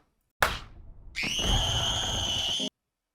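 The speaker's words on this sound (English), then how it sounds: "And then where she screams." A woman's loud, piercing scream, taken from a clip being edited, cuts in after a sharp initial burst and holds for over a second at steady high pitch before ending abruptly.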